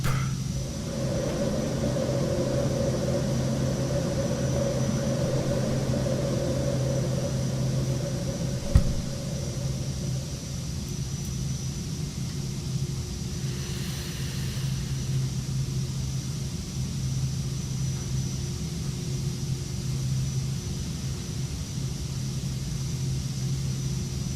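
A Cirrus Vision Jet climbing out over the Alps, heard from inside as a steady, even cabin roar with a constant low hum and a faint high whine, plus one brief click partway through.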